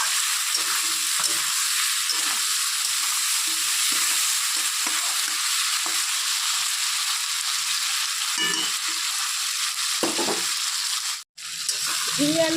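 Ridge gourd and potato with a little turmeric fry in oil with a steady, close sizzle and intermittent stirring scrapes, broken by a brief gap near the end.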